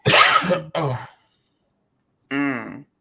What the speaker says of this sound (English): I think I need an inhaler because I can't stop coughing